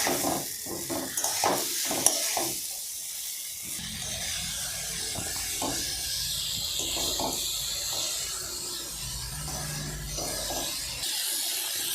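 Pointed gourd and potato stir-fried in a pan, a soft continuous sizzle under scraping and stirring strokes that come irregularly, with a few louder knocks early on.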